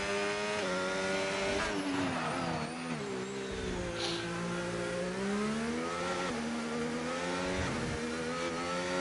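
A Red Bull F1 car drives a lap in F1 25, its high engine note rising and falling steadily through gear changes and corners, loud and close without pause.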